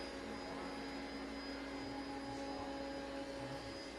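A Bissell SpinWave wet and dry robotic vacuum runs with a steady whirring motor hum and a high whine, constant and close, with no pauses.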